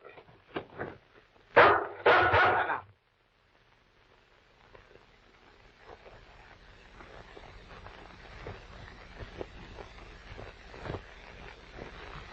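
A dog barks in a radio drama, a few loud sharp barks at the start, then quieter sound effects and low background noise continue without clear barking.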